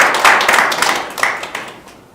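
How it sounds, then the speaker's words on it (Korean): Audience applause at a parliamentary seminar on a regional railway link, a burst of many hands clapping that fades over about two seconds, fairly loud and close with the room's reverberation. "큰 박수 부탁드립니다."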